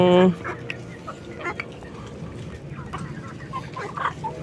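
Kabir chickens cluck at feeding time inside their pen, opening with one loud, close call and then trailing into scattered faint clucks over a noisy, rustling background.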